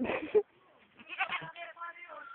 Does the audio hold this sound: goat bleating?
yes